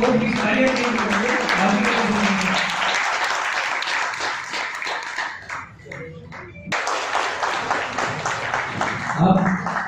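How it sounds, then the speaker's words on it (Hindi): Audience applause at an event where guests are being thanked for hosting a meal, steady and dense clapping with a brief lull before it swells again, while people talk over it. "सर आप लोग खाना खिलाने वाले हो, प्लीज तालियां दीजिए"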